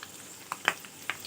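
Dried red chillies with cumin and curry leaves crackle in hot oil for a mutton pickle, giving scattered sharp pops and a soft sizzle at close range.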